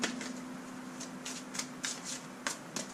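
Tarot cards riffled and shuffled close by in quick bursts of papery flicks and slaps, with a faint steady hum running underneath and no talking.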